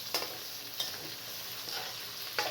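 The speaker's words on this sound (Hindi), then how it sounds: "अब इसके अंदर आलूओं को शामिल कर लें" Potato pieces go into onions frying in a pan for aloo gobi and get stirred: a steady, close oil sizzle with a few sharp stirring clicks, no voices.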